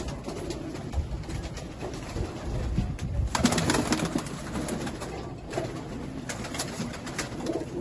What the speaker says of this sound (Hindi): ये देखें माशाल्लाह एक से बढ़कर एक कबूतर है।